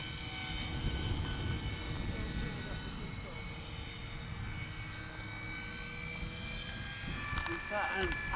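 A Ben Buckle RC model airplane engine drones steadily in the air at a distance, a continuous buzzing hum, with people talking over it at a flying field.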